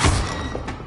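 An Incendio fire spell cast in the Hogwarts Legacy video game erupts as one short, loud burst with a deep thump at its start, followed by a brief crackling tail.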